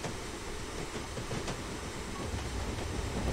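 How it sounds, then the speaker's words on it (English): A Black 5 steam locomotive pulling into a station during a short passenger run in Train Sim 2020, a steady low rumble and rolling wheel noise with a brief clank, continuous and moderately quiet. "Okay, we're coming in. Another train's just left."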